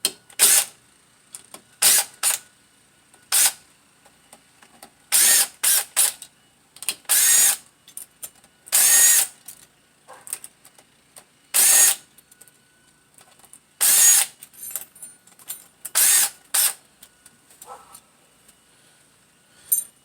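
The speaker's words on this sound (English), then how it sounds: "Take these bolts off and lay them down." A hand ratchet removes the clutch cover bolts on a 2001 V-Star 1100 motorcycle. Crisp, close clicking comes in about a dozen short, irregular bursts separated by near silence.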